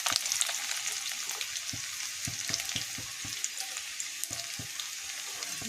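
Chopped garlic and ginger frying in hot oil in a pan, a close, steady sizzle broken by scattered pops and light stirring clicks.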